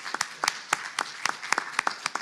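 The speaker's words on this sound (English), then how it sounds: "Please give yourselves a round of applause for being here, showing up, and caring about our community." A small audience at a community forum on city council races claps for a couple of seconds, individual hand claps sparse and distinct rather than a dense roar.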